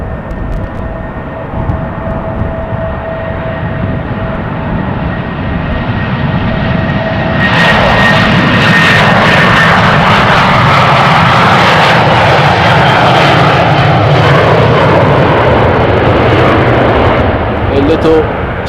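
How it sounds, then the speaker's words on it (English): A KLM Boeing 737-700 taking off from runway 36L at Amsterdam Schiphol, its jet engine roar swelling from a steady distant rumble to a loud, broad, sustained thrust sound as it accelerates, with occasional talk over the top. "And taking off at the moment, the 737 from KLM."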